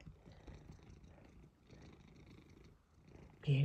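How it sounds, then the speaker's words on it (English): A cat purrs up close in a steady, low rumbling rhythm, fairly soft, with a brief louder noise at the very end. "Purring butt."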